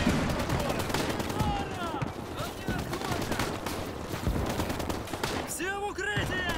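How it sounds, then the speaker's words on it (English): Sustained .50 cal machine gun fire rattles through a Cold War Marine Corps beach-landing battle in the video game Gates of Hell, dense overlapping bursts with other gunfire and distant explosions, loud and continuous throughout. "These 50 cals are delivering, though."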